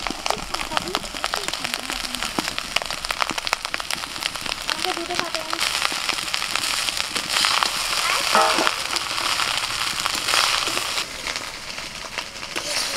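Fried potatoes going into hot ghee set off a steady, close sizzle and crackle through the whole stretch, with faint voices in the background.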